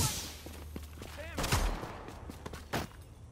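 Gunfire in The Division video game on PS4, a few sharp shots and a short burst mixed with shouting voices and game noise.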